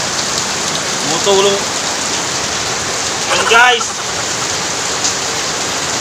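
Heavy morning rain pours in a dense, continuous roar close by, with a voice talking briefly over it twice.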